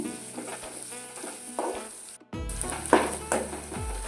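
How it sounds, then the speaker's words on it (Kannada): Onions fry in a pan with a bright, close sizzle, broken by scraping stirs and a brief pause before the frying surges louder again. "ಈರುಳ್ಳಿ ಕೂಡ ಫ್ರೈ ಆಗಬೇಕು"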